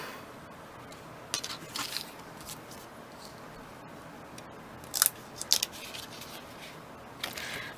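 Scissors making a few crisp snips on material, each cut a short sharp click heard close up in a quiet room, clustered around the middle of the span.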